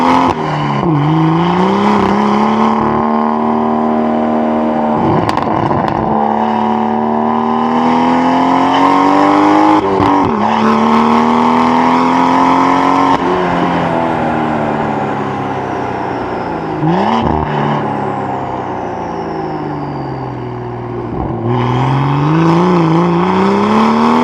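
A tuned BMW M140i F20 with a manual gearbox, rear-wheel drive and a Stage 2 custom tune running on 98 fuel, revving loud and close through repeated gear pulls, each rising howl broken by brief dips at the shifts.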